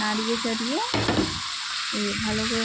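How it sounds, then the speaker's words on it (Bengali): Fried mixed vegetables are stirred with spices in a pan, a close hot sizzle with scraping strokes of a spatula and a brief clatter near the middle. "এবার আমি সব ভাজা সবজিগুলো একসঙ্গে দিয়ে"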